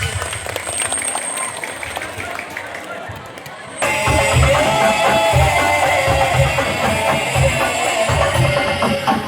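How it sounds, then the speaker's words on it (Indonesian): A crowd at a live Maulid Nabi celebration claps, the applause swelling noticeably louder partway through and continuing steadily, with voices and some low rhythmic thumps mixed underneath. "Boleh tepuk tangan buat Mai"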